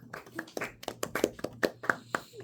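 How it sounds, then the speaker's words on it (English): A handful of students in a high school calculus classroom give a short, sparse round of applause, about a dozen distinct claps in an uneven rhythm, close and fairly quiet, with no one talking. "Shall we give Tyler a round of applause?"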